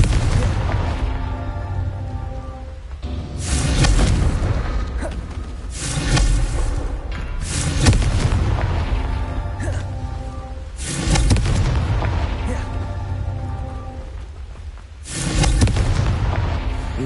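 Repeated Confringo fire spell blasts from Hogwarts Legacy, loud booming explosions with rumbling tails, about five bursts spaced a few seconds apart over a continuous low roar.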